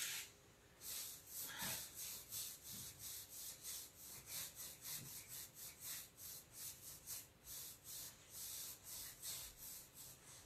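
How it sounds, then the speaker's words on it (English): Brushing Fusion Mineral Paint onto a wooden Duncan Phyfe buffet with a blending brush produces steady, rhythmic back-and-forth swishing strokes. They are close and fairly soft, with no talking. "I'm gonna blend that out with my blending brush"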